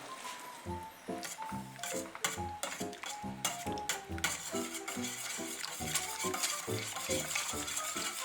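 A utensil stirs soaked gelatin powder in a bowl or pot, with rapid, repeated scraping and clinking strokes, close and steady, under background music.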